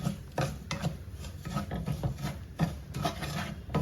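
Semolina stirred into melted desi A2 cow ghee in a pan, a close, steady rhythm of scraping and rubbing strokes repeating about every half second, with no voices.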